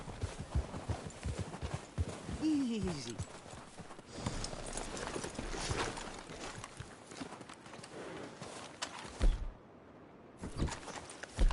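Horse hooves clip-clop in a quiet rhythm on a ride through the video game Red Dead Redemption 2, faint and intermittent beneath brief low talk and ambient noise.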